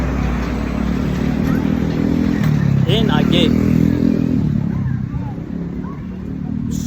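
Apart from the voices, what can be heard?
loud truck passing by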